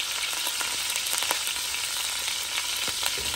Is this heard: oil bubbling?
yes